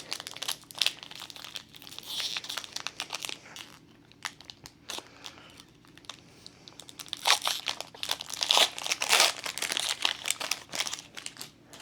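A Disney Lorcana Archazian Island booster pack wrapper is crinkled and torn open up close. The rustling and crackling runs throughout and grows louder and busier toward the end.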